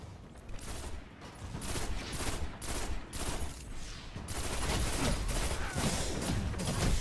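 Nirwen's Mercy pulse rifle in Destiny firing in dense, continuous bursts, loud and close, with game effects and gunfire from others mixed in throughout.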